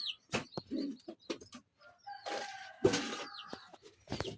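Chickens clucking nearby in short, scattered bursts, with a few longer squawks and rustling between calls.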